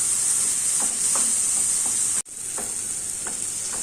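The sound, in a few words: tomatoes frying and being stirred in a pan for Afghani omelette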